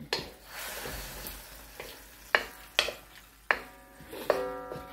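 Lo mein noodles sizzle in a pan while being stir-fried, a steady frying hiss broken by several sharp clacks and scrapes of a utensil against the pan, close and moderately quiet.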